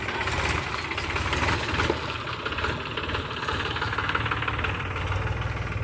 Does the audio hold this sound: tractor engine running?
yes